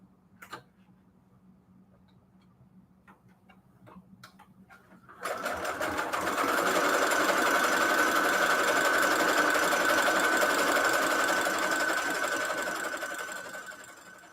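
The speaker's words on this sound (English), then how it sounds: "now we are ready to sew in our signature" A sewing machine starts after a few faint ticks and clicks, then runs in a steady, close, loud whirring hum as it stitches a book signature for several seconds before slowing toward the end.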